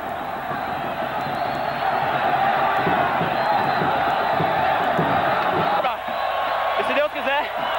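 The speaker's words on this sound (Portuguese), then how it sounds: "Você acompanha a festa da torcida esmeraldina." Football fans celebrate in a stadium after a lower-division Brazilian match, a broad, continuous roar of cheering and whooping with a commentator talking over it and a couple of sharp bumps near the end.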